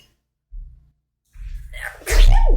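A single loud, sharp sneeze bursts out near the end, after a couple of brief low murmurs and a quick intake of breath.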